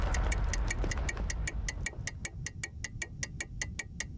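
A clock ticks in the horror video game Layers of Fear, an even, sharp and steady tick-tock repeating about four times a second, fairly quiet, with a low rumble fading out under the first half.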